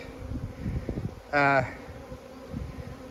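Honeybees cluster on a hive frame laid on the ground during a fix for a drone-laying queen or laying workers, giving a brief loud buzzing burst close by over a low, steady background hum.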